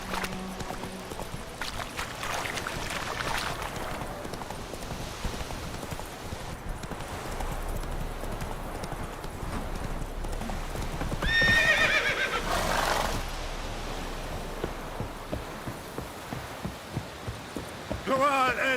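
A horse in The Witcher 3 gallops with steady clip-clopping hoofbeats and lets out a whinny, heard over a continuous game soundscape.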